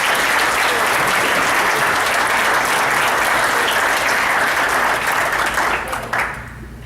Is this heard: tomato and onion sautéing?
no